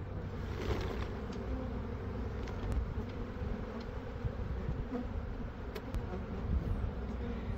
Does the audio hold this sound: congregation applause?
no